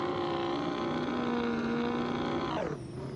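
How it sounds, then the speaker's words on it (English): Simulated Ford F350 pickup with a 6.0 Powerstroke diesel engine in BeamNG Drive, droning at steady high revs with a loud, buzzing tone, then dropping off near the end as the pitch falls. "it just has so much torque and the vibration that this engine literally puts out"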